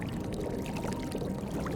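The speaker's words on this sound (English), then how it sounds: "So just keep pouring the wine" Wine pouring in the video game Indiana Jones and the Great Circle, a short continuous liquid pour with a gurgling splash, fairly quiet and alone.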